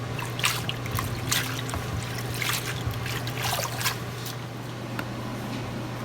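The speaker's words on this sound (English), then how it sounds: "here are the bean sprouts, also being washed" Water trickles and splashes steadily as bean sprouts are rinsed by hand for a chicken salad and congee, a continuous close wash with soft wet squishes and a low hum underneath, no talking.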